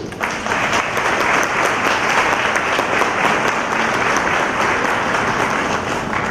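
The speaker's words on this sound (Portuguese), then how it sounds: "Aplausos para o Charles, por gentileza." Listeners at a lecture panel applaud warmly, loud and close, a thick, continuous wash of many hands clapping that holds steady for several seconds.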